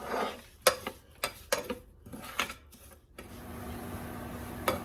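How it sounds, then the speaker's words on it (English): A spoon scrapes and clinks against a pan as oats are stirred into melted butter, making a quick run of close, uneven knocks followed by a steady low hiss. "stir it in so that it's totally coated in the butter"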